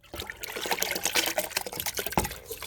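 Potatoes and their cooking water are poured into a container of water, giving a steady splashing, gurgling pour with bursts of heavier splashes throughout, close and fairly loud, with no talking.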